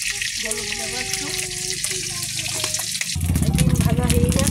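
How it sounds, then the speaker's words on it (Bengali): Cracked duck eggs seasoned with salt and turmeric fry in hot oil with a continuous close sizzle that swells louder near the end, while a faint voice or tonal sound runs underneath. "ডিম ভাজা হয়ে গেছে"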